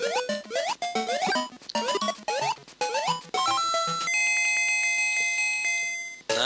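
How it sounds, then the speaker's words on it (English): Video game jingle from Super Mario Land 2 on Game Boy, where a quick run of bright chiptune notes gives way to a sustained ringing end-of-level bell tone that holds steady and loud for a couple of seconds with no voices. "That end bell is surprisingly easy to get."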